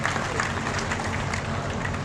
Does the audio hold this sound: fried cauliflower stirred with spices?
no